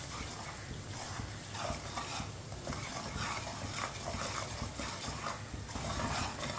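Spices cook in a pot on low heat for sarson ka saag, a faint, even sizzle with occasional soft stirring and scraping, quiet and close.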